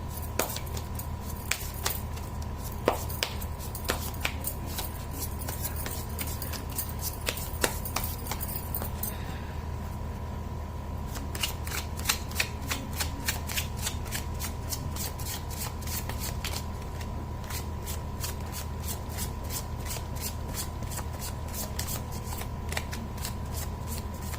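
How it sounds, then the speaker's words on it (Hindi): Tarot cards shuffled close by in many quick, crisp riffles and taps that repeat over a steady low background hum, with a brief lull partway through before the shuffling resumes. "मैं कर लेती हूँ कार्ड की शफलिंग।"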